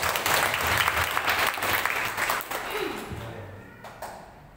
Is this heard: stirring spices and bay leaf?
no